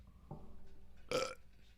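A single short, low burp sounds up close in a quiet room, preceded by a faint throaty noise.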